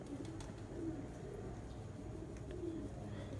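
Pigeons at a competitive pigeon-flying event in Punjab give soft, low coos in two brief phrases over a steady outdoor murmur of background noise, with no clear talking.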